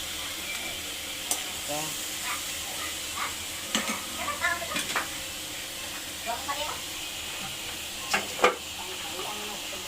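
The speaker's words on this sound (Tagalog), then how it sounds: "Ginigisa ko na po yung chicken." Chicken sautéing in a pan for a chicken pork and beans dish gives a steady, fairly quiet sizzle and hiss throughout, with scattered clinks and stirring scrapes, while a voice speaks briefly.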